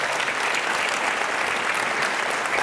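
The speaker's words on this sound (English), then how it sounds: "Could you please give them a big round of applause?" Sustained, dense audience applause from a large crowd at a conference session, steady and loud throughout with no letup.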